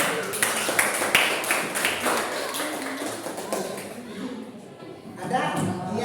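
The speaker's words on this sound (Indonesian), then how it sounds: "Oke, tepuk tangannya." A classroom of students claps in scattered, uneven bursts, a loose patter of hand claps with quieter gaps and a short renewed flurry near the end, heard close.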